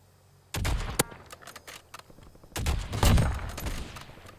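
Automatic gunfire in the video game Warzone crackles in rapid bursts, a sharp burst, a lull with scattered shots, then a longer heavy volley, close and loud with no speech.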